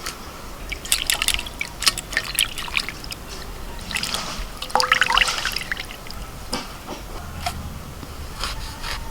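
Water drips and trickles as curry leaves are rinsed by hand, with scattered splashes and small pours coming and going close by.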